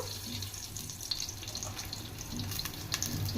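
Mustard seeds spluttering in hot oil with crushed garlic, a steady close crackle and hiss with scattered sharp pops throughout, no talking.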